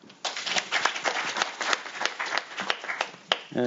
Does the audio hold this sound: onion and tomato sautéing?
no